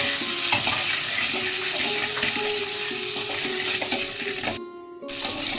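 Duck eggs fry in mustard oil in a kadai until light brown, giving a loud, dense, continuous sizzle close by with occasional spatters and a faint tonal hum beneath.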